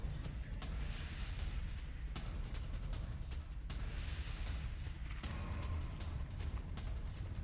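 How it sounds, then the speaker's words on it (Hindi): Bombing of residential areas in Lebanon in news footage, heard as continuous loud, rumbling low-frequency roar with repeated crashing bursts over about seven seconds, no voices. "लेबनान में रिहायशी इलाकों पर विध्वंसक बमबारी"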